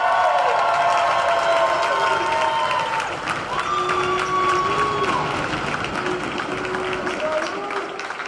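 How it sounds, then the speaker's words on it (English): A crowd at an NCAA volleyball SCAC championship applauds and cheers for the regular-season champion Trinity Tigers, a steady wash of clapping and cheering heard under an announcer's voice. "One more round of applause for the regular season champion Trinity Tigers."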